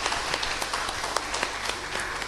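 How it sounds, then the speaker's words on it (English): Steady applause from an audience at a mango expo event honoring the chefs, dense overlapping claps sustained throughout at moderate level. "round of applause for the chefs for all of their hard work"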